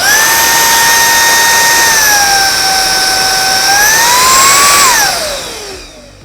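A Redkey P8 cordless vacuum cleaner running with a high whining motor tone that shifts pitch as power settings change, then spins down and fades out near the end.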